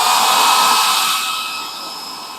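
A household hair dryer blows a steady, loud broadband whoosh with no speech, easing slightly quieter toward the end.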